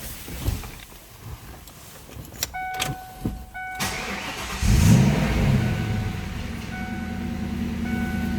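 A 1996 Ford Mustang SVT Mystic Cobra cranks and fires up close by, chime tones and clicks first, then the engine catching and settling into a steady idle.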